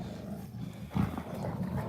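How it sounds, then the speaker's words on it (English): A Rottweiler gives a low, throaty vocal grumble that swells briefly near the middle, heard close up over steady room noise, with no talking. "my Rottweiler is very vocal, so you hear a lot of noises"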